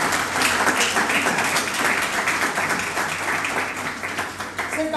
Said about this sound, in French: J'aimerais qu'on applaudisse très bien pour cette